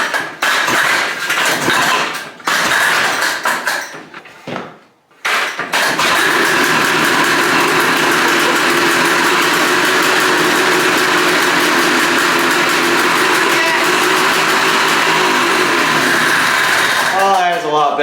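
A neglected 1983 Honda Odyssey FL250 go-kart engine, choked with vise grips, sputters through a few failed cranks, then catches and roars steadily at close range, loud and continuous, with a voice briefly heard at the start.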